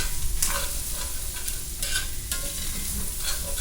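Flour cooking in sausage grease for gravy in a pan gives a continuous close sizzle, with a few brief scraping stirs over it and no voices.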